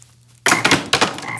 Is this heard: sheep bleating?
no